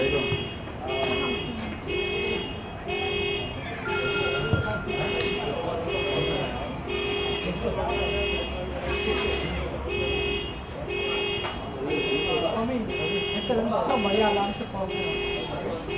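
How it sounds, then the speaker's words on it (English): A car alarm rings in a car park beside a football pitch during a Tunapuna versus Freeport semifinal, a steady repeating electronic tone pulsing throughout under continuous commentary and crowd noise. "There's an alarm that is ringing off in the car park."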